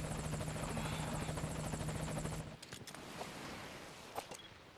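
Rotor chop from a nearby helicopter in Metal Gear Solid V: Ground Zeroes beats loud and rapid for a couple of seconds, then cuts away to quieter rumble with scattered thumps and clicks.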